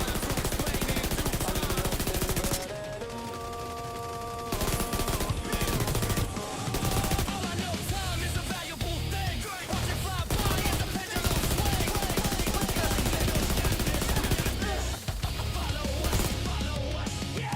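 SMG gunfire in The Division 2, paired with a light machine gun: long rapid bursts of automatic shots with brief gaps, loud and close over game effects.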